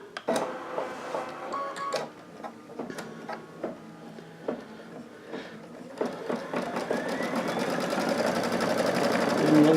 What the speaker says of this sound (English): We're going to start with the gray background fabric, pattern. And green means go.